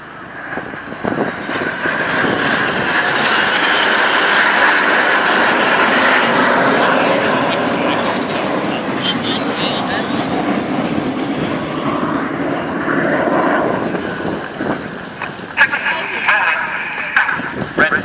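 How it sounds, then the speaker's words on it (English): Jets fly an aerobatic display at the Portrush Air Waves 2014 event, their engines roaring loud and steady for many seconds as the aircraft pass overhead, with a commentator talking over the noise. "flying his jet only 8 feet away from Red 6, but doing it while he's upside down."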